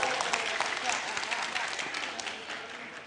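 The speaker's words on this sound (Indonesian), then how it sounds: "Tepuk tangan buat Indonesia Timur." Sustained audience applause greeting a group from Eastern Indonesia at the inauguration of the IPNU and IPPNU central leadership, dense steady clapping over about three seconds with a faint voice underneath.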